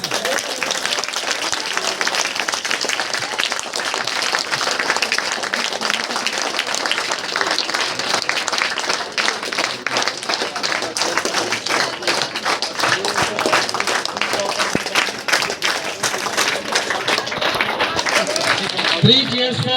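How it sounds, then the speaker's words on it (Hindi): An audience at the Bhushan classes function applauds continuously and loudly for about twenty seconds, with dense clapping that never lets up. "ताली रुकनी नहीं चाहिए।"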